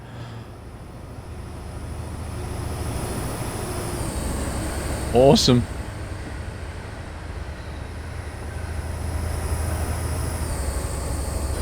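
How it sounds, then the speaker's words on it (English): A train passes along the track in Train Simulator 2016 on a Western Mainlines route, with engines at the front and rear. A steady rolling rumble runs throughout, broken by a short, loud horn-like burst midway, and one voice speaks briefly. "sit down the side of the track here and watch your own train come past"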